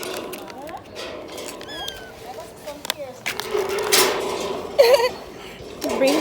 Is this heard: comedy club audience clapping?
no